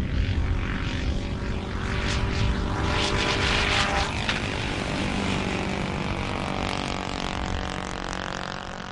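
A small weather drone powered by a gasoline engine flies with a steady, loud propeller drone that holds throughout, buzzing and rough, with no voices.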